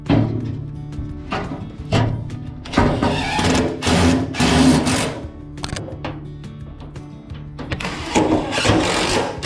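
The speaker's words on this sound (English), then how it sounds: "throw some screws up in there." A power drill drives screws into a wooden range hood frame, whirring in several bursts of rising and falling motor whine separated by brief pauses, close and fairly loud.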